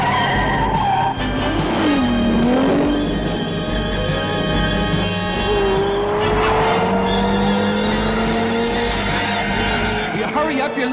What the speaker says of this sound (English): That's the fastest car I've ever seen. It must be going 100 miles an hour.